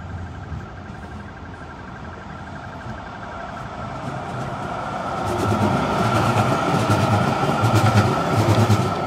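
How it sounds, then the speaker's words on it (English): A tram rolls past on a German street, its rumble and rail clatter building and growing louder partway through as it draws nearer, with no voices. "I like these trams."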